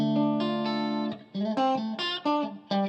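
Clean electric guitar played on a single-coil pickup through the clean channel of an HT50 Club amp head: a ringing sustained chord, then several plucked notes and short chords, clear and undistorted.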